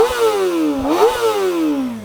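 A 2024 Kawasaki Ninja ZX-4RR revving hard close by, a high, buzzy inline-four wail that climbs, dips briefly, spikes again and then winds smoothly down over about two seconds.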